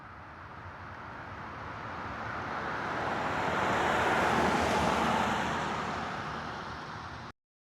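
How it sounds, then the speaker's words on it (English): A car passing by as an animation sound effect, a broad rushing roar that swells gradually toward the middle and eases off before cutting out abruptly, with no voices. "you're closer to the car, so you really hear it kind of go by you"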